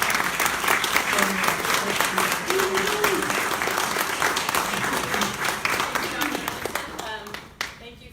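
A lecture audience gives warm, sustained applause welcoming the speaker, dense clapping from many people in a hall that thins out and tapers near the end, with brief voices mixed in.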